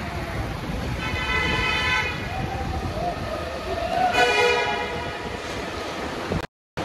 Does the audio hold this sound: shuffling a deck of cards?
no